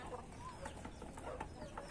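Crested chickens cluck softly in a quiet yard, a few faint, scattered clucks and low murmurs over light background noise.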